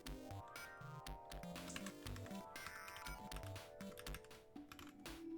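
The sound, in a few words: typing on a computer keyboard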